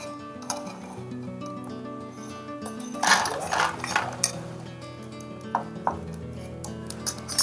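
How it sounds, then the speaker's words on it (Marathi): Roasted peanuts scooped out of a pan over a village wood-fired stove: a sharp metallic clatter midway, followed by scattered lighter clinks and scrapes against a quiet, humming background. "बघू शकता की आता मम्मी शेंगदाणे काढते"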